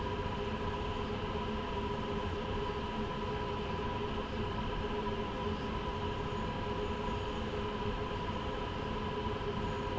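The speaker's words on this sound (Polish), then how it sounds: "Mijamy kolejny pociąg regionalny." A regional train rolls past in the Train Sim World 2 simulator on the Spessart Rampe route, heard from a BR 187 locomotive cab as a steady, loud rumble with humming tones and faint wheel squeal that continues unbroken and without talk.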